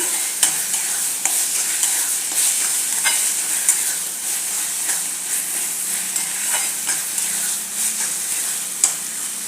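Spiced tomato bhaji is stirred in a hot pan with coriander-cumin powder just added, giving a steady close sizzle with repeated sharp scrapes and clicks of the spoon throughout, and no talking.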